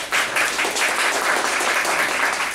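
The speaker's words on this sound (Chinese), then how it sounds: "大家掌声一下。" Audience applause at a Taiwanese magazine talk event, steady dense clapping from a crowd sustained through the whole stretch with no talk over it.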